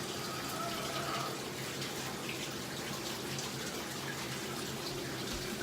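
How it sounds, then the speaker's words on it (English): Running tap water pours steadily into a bathtub as cold water is added, a continuous close hiss and splash that holds level throughout with no voices. "The water was a little hot, so I was putting some cold water in it to let it cool down."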